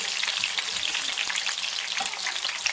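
Fish frying in hot oil in a pan, a dense, steady crackling sizzle heard up close and alone, continuous throughout with tiny popping spatters.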